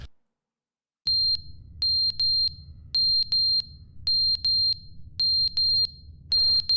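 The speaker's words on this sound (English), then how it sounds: "the smoke alarm went off and I can't even fix it" A smoke alarm in The Stanley Parable: Ultra Deluxe chirps in short, sharp, high-pitched pairs of beeps, repeating steadily over a low hum. The alarm is loud and close, with no talk.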